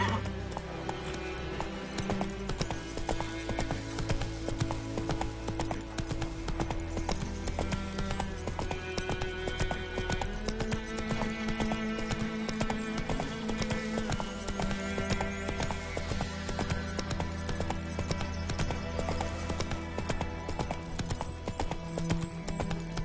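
Roach the horse galloping in The Witcher 3, rapid rhythmic hoofbeats pounding steadily over layered game music, with occasional whinnies and a brief stretch of talk.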